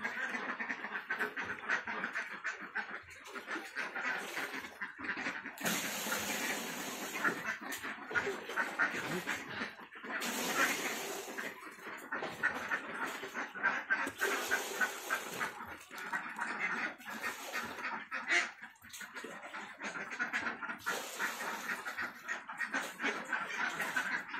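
A flock of ducks on a rural farm quacking repeatedly while drinking, overlapping nasal calls in bursts near and around, with splashing and farmyard background between.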